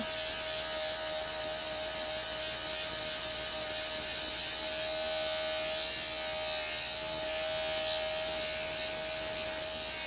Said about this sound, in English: I need to grind this backside down